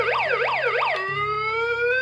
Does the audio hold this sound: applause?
no